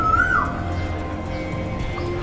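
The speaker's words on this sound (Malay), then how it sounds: "burung ni" A single bird gives a brief rising and falling call at the start, then steady outdoor background noise with a low hum continues.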